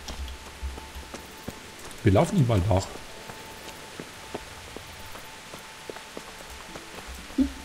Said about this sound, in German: Jetzt regnet es schon wieder.